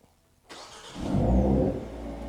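A 2025 Hyundai Avante N in Cyber Grey Metallic starts remotely by smart key, with a click, then the engine cranking and catching in a loud, deep rising flare before settling into a rumbling idle.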